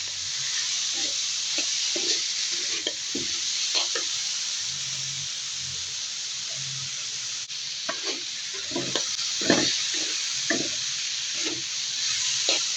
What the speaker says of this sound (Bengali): নাড়াচাড়া করে এটা ভালোভাবে একটু ভেজে নেব, যাতে